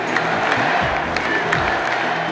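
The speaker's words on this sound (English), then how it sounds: "I expect that crowd to be extremely loud," Roaring basketball arena crowd at the NBA Finals, a dense continuous wash of cheering and applause from thousands of fans, loud and distant-sounding, with voices mixed into the noise.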